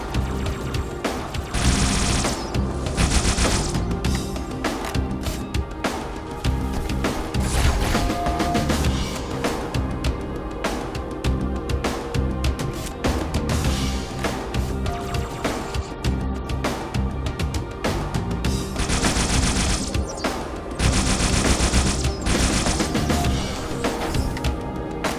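Gunfire rattles against brutes during a battle in the Halo 2 video game, with dense repeated shots and bursts layered over game music and effects throughout.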